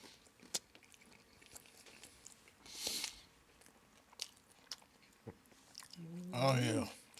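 Chewing and biting into smoked Chicago-style pan pizza from a pellet grill, a few close crunches scattered through the clip, with a brief voiced exclamation near the end.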